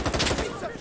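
Rapid automatic gunfire in the console shooter Insurgency Sandstorm, a quick close burst of several rounds that fades out in under a second.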